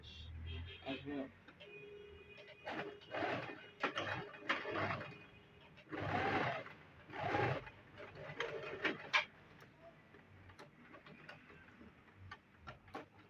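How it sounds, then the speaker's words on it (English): A sewing machine stitches a half-inch seam on a trouser band in short mechanical bursts of whirring and ticking, alternating with a person talking close by. "So let me sew it. And I'm sewing it with half inch as well."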